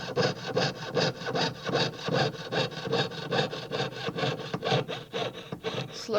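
Fine-toothed saw cutting a piece of silver for a ring, lubricated with wax: quick, even back-and-forth rasping strokes, roughly four per second, close and continuous with no talking.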